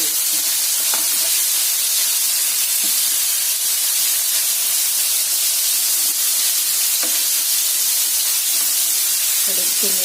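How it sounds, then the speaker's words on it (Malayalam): Cauliflower pieces half-frying in a little hot oil for a curry give a steady, bright sizzling hiss throughout, with a few faint clinks and soft knocks now and then; no one speaks. "കോളിഫ്ലവർ എണ്ണയിൽ വറുത്തെടുക്കുന്നു."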